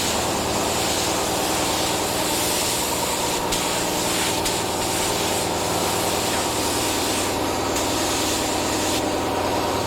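A spray gun puts paint onto a custom motorcycle helmet with a loud, continuous hiss that barely changes for ten seconds, broken only by brief pauses in the flow.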